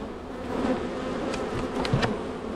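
Honey bees swarm and buzz in a dense, steady drone from an open hive during an inspection, with a few sharper passes close by.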